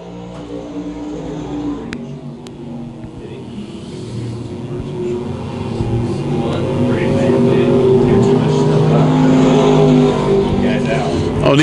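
USRA stock cars race around Lakeside Speedway, their engines roaring in a steady, swelling drone that grows louder as the pack approaches, with a commentator talking over the noise.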